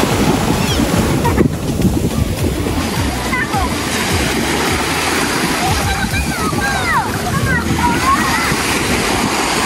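Sea waves surge and wash at a beach at Talaan Beach, Sariaya, with steady broadband surf and wind buffeting the microphone throughout while people talk in the foreground.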